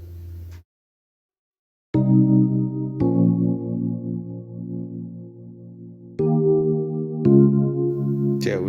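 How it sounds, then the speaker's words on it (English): Layered electric piano chords played in reverse in FL Studio for a modern amapiano beat, each chord swelling in and cutting off sharply, several sustained chords in a row after a brief silence, loud and alone. "So the next thing I'm gonna use is this electric piano, and I'm actually just gonna layer that."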